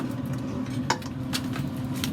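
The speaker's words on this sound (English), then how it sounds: "Dump it back in the tray." Pork belly pieces slide and clatter back into a metal tray, a short run of clinks and scrapes with one sharper knock partway through, close and moderately loud with no talk.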